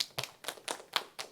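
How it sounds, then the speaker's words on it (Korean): Short, sparse clapping from the audience at a youth political talk event, about six soft, evenly spaced claps, fairly quiet, with no talking. "큰 박수 부탁드립니다."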